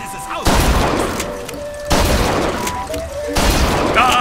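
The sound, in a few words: gunfire from weapons at the fair in the video game Bioshock Infinite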